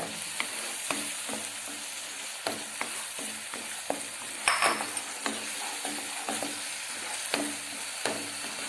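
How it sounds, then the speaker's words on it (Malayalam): Oil sizzles steadily with sharp pops and crackles scattered throughout as mustard seeds and curry leaves splutter for a Kerala-style ginger curry tempering, close and fairly loud, with no voices. "കടുകും കറിവേപ്പിലയും കൂടി പൊട്ടിച്ച് ഒഴിച്ചാൽ മതി"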